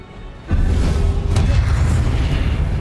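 A fiery Confringo blasting spell erupts in the Hogwarts Legacy game, a deep booming explosion that hits suddenly and rumbles on loudly, dense and sustained, with a sharp crackle partway through.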